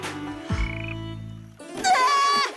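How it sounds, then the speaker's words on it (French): A slimy frog in a cartoon croaks in loud, close, sliding tones: a deep drawn-out croak, then a higher warbling one, alone without speech. "Une grenouille toute gluante!"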